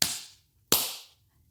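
Two cupped-hand claps spaced under a second apart, each a loud, close, hollow pop with a short fading tail, alone in a quiet room.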